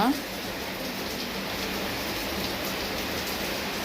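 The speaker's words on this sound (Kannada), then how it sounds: "ಇದು ನೋಡ್ರಿ ಮಳೆ ಹಿಂಗೈತ್ರಿ" Steady rain hisses evenly throughout, a dense wash of falling water with no breaks.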